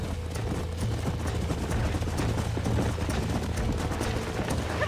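Horses gallop in Red Dead Redemption: a steady, dense clip-clop of hooves at close range, with a low rumble running under it throughout.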